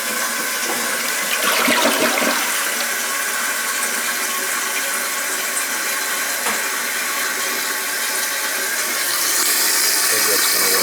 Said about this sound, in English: As long as it don't flush twice,